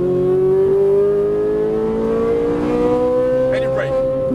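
A Ferrari 458 Italia engine accelerates hard on a race track, heard close and loud as one continuous note that climbs steadily in pitch.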